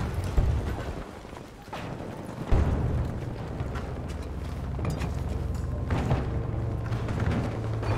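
A grenade blast in the Battlefield video game, followed by a lingering rumble and scattered battle noise, loud and sustained with a sharp hit midway.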